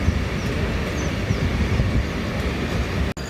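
A Vande Bharat express train running parallel to the Jan Shatabdi on the Mumbai-Konkan line gives a loud, steady rushing rumble close by, ending in a sharp brief dropout near the end.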